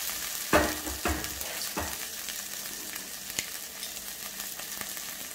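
Green chillies frying with cooked tomatoes in a pan give a steady close sizzle, with a few sharp stirring scrapes near the start and no talk.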